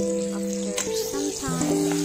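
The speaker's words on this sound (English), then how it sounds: "when the onion is done the frying process" Onion sizzles steadily frying in a hot pan while a few sustained tonal hums sound underneath, with no talking.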